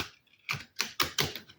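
Tarot cards from The Tarot of Transformation deck being corner riffle shuffled, giving four crisp, fairly close bursts of flicking card edges in quick succession, with nothing else audible.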